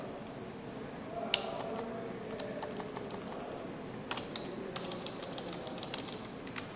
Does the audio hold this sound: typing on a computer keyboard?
yes